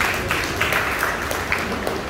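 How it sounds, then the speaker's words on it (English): Applause from an audience at a business forum, a brief burst of clapping at moderate level with a voice briefly audible alongside. "Clap for that."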